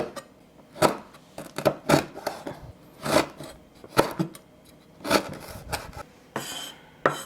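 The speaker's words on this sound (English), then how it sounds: "I'm going to chop up the lemongrass" Lemongrass chopped with a knife on a cutting board in a Vietnamese kitchen, a loud close series of crisp, rasping chops in an uneven rhythm, without talk.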